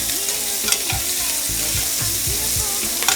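Onions stirred into a hot pan with halved bacon pieces, a steady close sizzle with repeated scraping stir strokes, alone with no talk.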